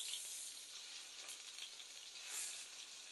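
Shrimp frying in a few spoonfuls of hot oil for shrimp fried rice, giving a steady, dense sizzle that swells slightly near the end, close and alone with no voices.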